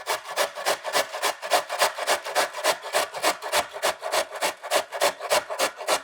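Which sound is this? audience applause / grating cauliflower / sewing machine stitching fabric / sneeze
grating cauliflower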